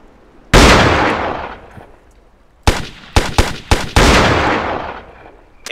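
Gunfire crackles in Ghost Recon during an online rescue mission, with one loud shot followed by several rapid, sharp reports and another heavy blast, each echoing away. The shots are close and loud.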